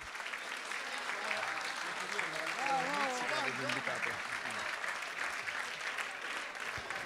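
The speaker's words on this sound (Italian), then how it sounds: "con un applauso corale" Audience applause at a Lega Nord party festival in Umbria, a continuous, fairly distant spread of clapping with voices briefly rising over it midway.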